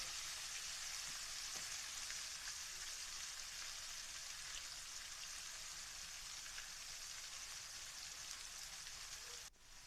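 Garlic and ginger paste sizzles steadily in a pan while cooking for a daal maash dish, a soft, even hiss that barely changes throughout and cuts off just before the end.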